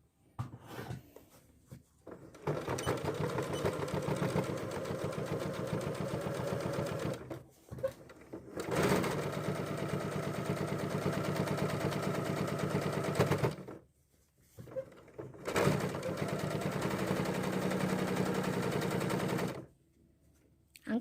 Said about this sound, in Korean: 항상 박음질 하실 때는 모서리 부분부터 이렇게 이음매 있는 부분부터 시작하도록 할게요